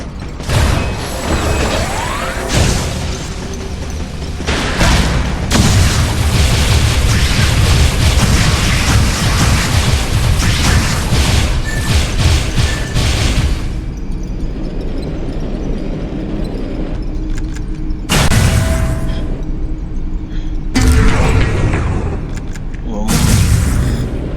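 Booming bomb explosion in the video game Metroid: Other M, a loud dense blast with rumbling crashes, then quieter stretches broken by more bursts, with voices in between.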